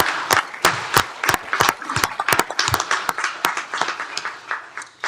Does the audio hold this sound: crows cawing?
no